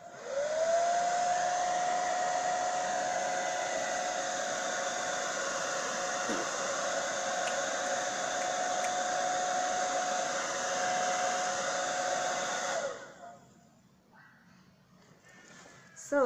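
A hooded hair dryer runs with a loud, steady whooshing roar and a constant tonal whine, continuing evenly for about thirteen seconds before switching off, leaving quieter room noise.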